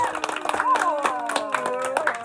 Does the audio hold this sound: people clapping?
yes